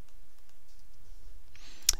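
A single crisp computer mouse click lands near the end while pasting in WordPress widgets, close and sharp after a near-silent stretch with faint background noise.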